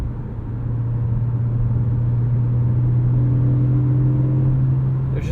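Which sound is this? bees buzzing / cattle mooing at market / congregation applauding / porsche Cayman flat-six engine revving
porsche Cayman flat-six engine revving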